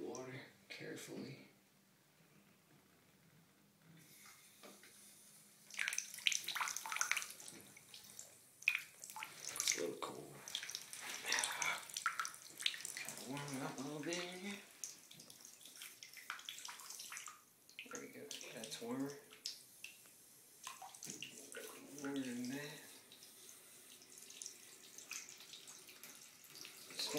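Water poured into a shallow bath for a baby bearded dragon, intermittent splashing and trickling at close range, with a person talking softly between pours.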